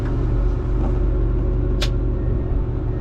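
A John Deere 844K wheel loader engine runs at low throttle with a deep, steady diesel rumble and drone heard from inside the cab, with one brief hiss partway through.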